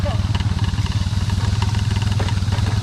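A motorcycle engine chugs with a rapid, even pulsing on a steep mountain road, running loud and close throughout, with people talking faintly over it.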